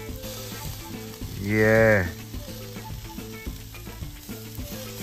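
Sausages and seasoned steaks on a South African braai grill give off a steady, soft sizzle beneath prominent rhythmic music, and someone briefly speaks partway through.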